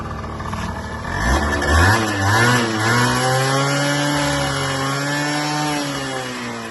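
A Honda Tact AF-24 scooter's small engine revs up sharply, climbs and then holds a steady high whine close by, with no voices over it.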